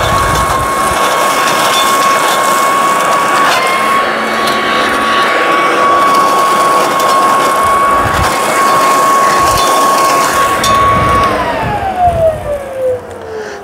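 A Worx Trivac 3-in-1 leaf blower, used with a mulching adapter on leaves, whines loudly and steadily close by, then its pitch drops sharply as it winds down at the end.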